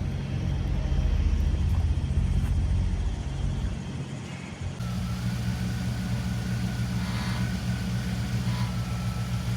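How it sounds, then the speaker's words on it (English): A 1965 Ford Falcon with a five-speed transmission rumbles steadily just after start-up, a close, even idle that shifts character partway through and continues without talk. "we are going to fire it up now and then drive it."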